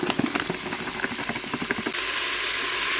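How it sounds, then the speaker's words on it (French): Lardons drop into a Cookeo multicooker pot: a couple of seconds of scattered clicks and taps give way to a sudden, steady broadband sizzle as they hit the hot surface. "Et je viens ajouter les lardons."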